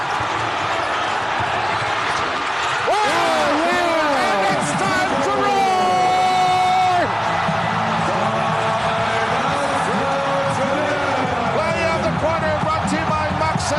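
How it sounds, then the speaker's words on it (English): A packed arena crowd roaring throughout a South Sudan versus Philippines FIBA Basketball World Cup 2023 game in Manila, a dense, loud, sustained roar with whoops and horns, under an excited commentator. "listen to this crowd roar"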